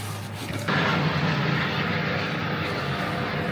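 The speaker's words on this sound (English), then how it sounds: "he hears the sound of a helicopter overhead" A helicopter flies overhead above a wilderness clearing, its steady broad rotor and engine roar swelling abruptly and then holding loud and close.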